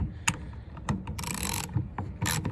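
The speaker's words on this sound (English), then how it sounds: "you're going to use a wrench to hold the nut and the socket, but it's going to be reversed" Wrench and socket working the pulley nut on a 2005 Dodge Ram 1500 power steering pump: a series of sharp metallic ratcheting clicks and bursts, several short taps and two longer raspy ratchet runs, close and fairly quiet.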